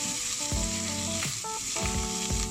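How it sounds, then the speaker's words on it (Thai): Braised beef being stir-fried with holy basil in a hot wok, a loud continuous sizzle broken by several sharp scraping stirs of the spatula close up, with no talking. "ก็ผัดคลุกเคล้าทั้งหมดให้เข้ากัน"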